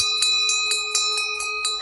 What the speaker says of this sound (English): Hark, there's the bell.